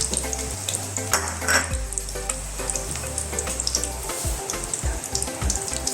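Chopped onions frying in hot oil for a capsicum chicken curry give a steady, close crackling sizzle, with stirring clatter and low pan knocks throughout.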